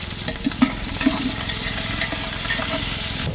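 Potatoes, onions and green chillies fry in a pot outdoors, a steady close sizzle with spatula scrapes and stirring knocks punctuating it.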